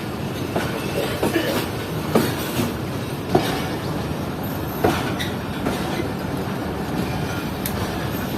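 Shalimar Express train rolling slowly through Kotri Junction station without stopping, a steady rumble of the carriages with clickety-clack wheel beats and occasional clunks, heard from on board.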